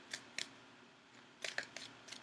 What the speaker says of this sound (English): I'm shuffling your cards for just a few seconds